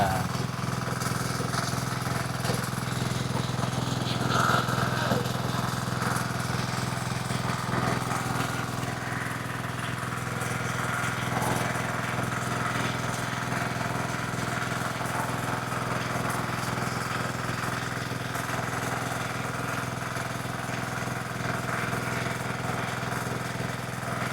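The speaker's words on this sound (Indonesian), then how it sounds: "untuk uji coba mesin cetak pelet ini ya Mas ya, mungkin akan kita kasih cuplikannya saja ya Mas ya" A diesel-powered pellet making machine runs on test, giving a steady, loud mechanical drone with an engine-like rumble and clatter that holds constant throughout without pause.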